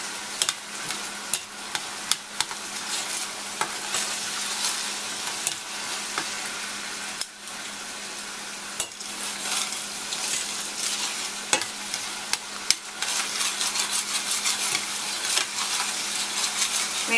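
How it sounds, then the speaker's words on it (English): Onions fry with masala in a pan, a dense, constant sizzle running throughout, punctuated by occasional sharp clicks and scrapes as a utensil stirs them, close-up and without talking. "Make sure you stir it so it won't get too brown."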